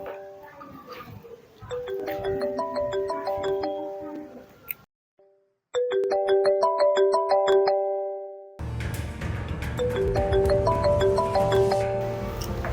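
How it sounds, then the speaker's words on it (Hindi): A mobile phone ringtone for an incoming call, a bright repeating electronic chime melody that plays loudly and stops briefly, resumes, then continues over a busier background. "सर वो कब से कॉल आ रहा है, मैं ले लूँ?"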